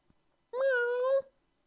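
A large cat gives a single clear meow lasting under a second, close and alone in a quiet room.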